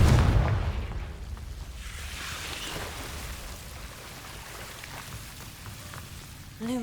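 A Confringo blasting spell explodes in Hogwarts Legacy with a loud, deep boom right at the start, then a rumbling, crackling decay. A short tonal chime sounds at the very end.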